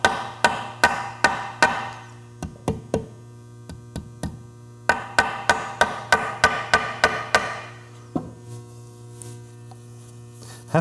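Repeated dull taps in quick bursts from a leather mallet filled with shot or sand tapping frets into a bass guitar neck, over a steady electrical hum; the taps pause and resume in rhythmic runs.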